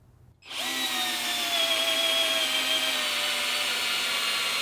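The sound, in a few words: 12-volt cordless drill driving a screw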